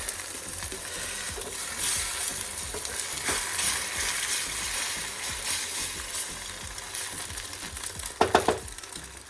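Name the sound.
egg frying with mushrooms in a pan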